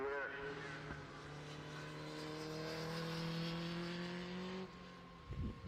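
A 250cc classic racing motorcycle passes at a bike race, its engine a rising then steady high whine that cuts off sharply near the end, heard at a middling distance under a commentator's voice.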